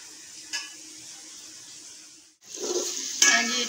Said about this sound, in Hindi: इसमें मैंने लहसुन अदरक सब्ज़ मिर्चों का पेस्ट डाल दिया है